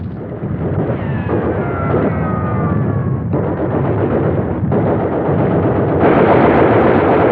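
Naval guns firing artillery in 1915 against a Turkish attack on the canal defenses, heavy continuous booming and rumbling barrage, loud and dense throughout.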